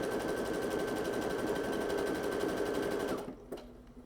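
Brother M370 sewing machine stitching a reinforced buttonhole at full speed, a steady, close, fast mechanical whir that runs for about three seconds, then drops into quieter clicks as it stops.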